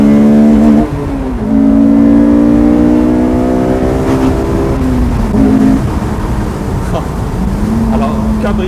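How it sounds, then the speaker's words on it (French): A loud Honda S2000 engine revs hard, its pitch climbing steadily as VTEC engages at 6000 rpm, before dropping and rising again, close and continuous with a faint voice underneath. "À 6000 tours, le VTEC s'enclenche."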